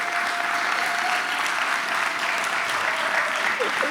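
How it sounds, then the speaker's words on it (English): Round of applause from an audience at a Lincoln Day political party event, steady sustained clapping filling the room, with a voice speaking faintly under it. "How about one more big round of applause for our chairman and my resident, Chris Tudor?"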